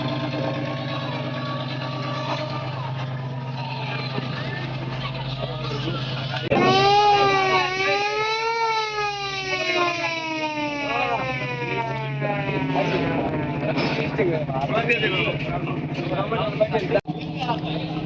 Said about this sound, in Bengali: যেহেতু ইঞ্জিন সারছে এর জন্য এই সাইলেন্সার দিয়ে ধোয়া বেরোচ্ছে এবং শব্দ হচ্ছে